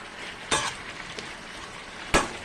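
Chinese-style fish with vegetables is stirred in a pan, with two sharp, loud scrapes of a utensil against the metal over a soft, constant background sizzle.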